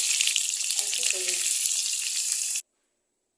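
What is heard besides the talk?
potatoes frying in oil in a wok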